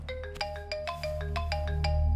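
A phone ringtone plays late at night, a bright repeating electronic melody of short tones in quick succession, loud and close with no voices over it.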